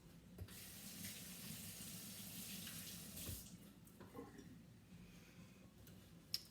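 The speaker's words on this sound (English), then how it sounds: "I'm gonna wash my hands" Tap water runs steadily into a kitchen sink as hands are washed beneath it, a continuous close splashing hiss with small clinks and a sharp tap near the end.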